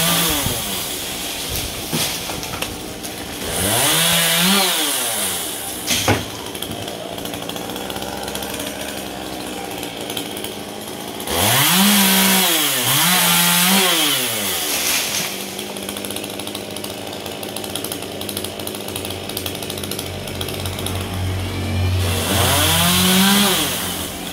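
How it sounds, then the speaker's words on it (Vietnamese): A chainsaw cuts a large star apple tree beside a busy road, loud and close, revving in three long surges with whining pitch sweeps between steadier idling stretches. "Chúng mình cưa cái đọt đó luôn đó"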